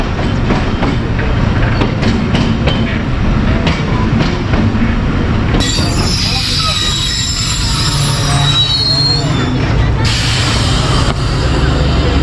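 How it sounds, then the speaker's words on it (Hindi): The Sialkot Express pulls into Baddo Mahli railway station, its wheels squealing loudly and continuously over a heavy rolling rumble, with high screeches rising partway through. "सियालकोट एक्सप्रेस अब पहुंच रही है बद्दो महली रेलवे स्टेशन पर"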